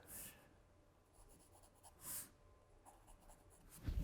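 A pencil draws a face on paper, with faint close scratchy strokes, a few brief louder sweeps, and quiet sketching between them, with no voices.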